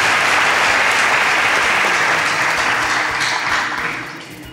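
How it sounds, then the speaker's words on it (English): Studio audience applause closing a variety show episode, a dense wash of clapping that holds steady for several seconds then starts to taper off near the end, with no talking over it. "A round of applause for yourself."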